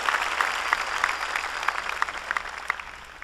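A church congregation claps during a Spanish-language sermon, a steady wash of hand claps with a few sharper individual claps standing out, moderately distant and fading slightly toward the end.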